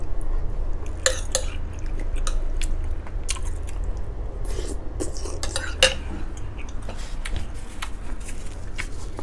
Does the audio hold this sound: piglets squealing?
no